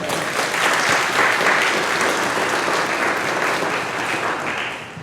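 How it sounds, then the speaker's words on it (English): A congregation at a Sunday Easter-season Mass claps in sustained, dense applause that fills the church at steady loudness and tapers slightly toward the end, with no voices over it. "Let's give them a little bit of a round of applause"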